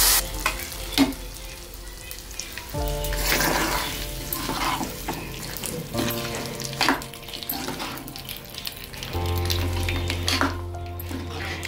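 Ghee tempering being stirred into mango dal (pappu mamidikaya), giving a sustained sizzle and frying crackle with spoon scraping and clinks of a pot, continuous and close with no talk.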